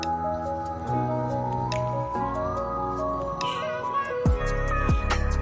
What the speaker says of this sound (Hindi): मिल्क शेक रेडी हो गया है अब हम इसको ग्लास में डालेंगे